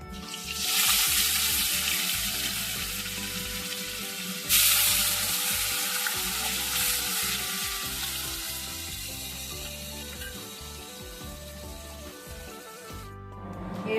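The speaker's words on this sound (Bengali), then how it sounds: "বাদ বাকি মাছগুলো আমরা ভেজে নেব" Katla fish pieces frying in oil, a loud, dense sizzle close up with a sharp burst near the start that slowly fades, along with faint clinks of a pan.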